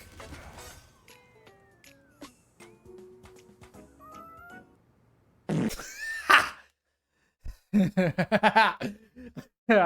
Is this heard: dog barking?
no